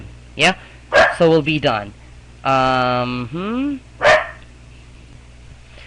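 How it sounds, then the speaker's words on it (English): A dog barks and yips several times indoors, close and loud, a few sharp barks followed by a longer drawn-out whining bark, while someone speaks briefly. "Sorry for the dog."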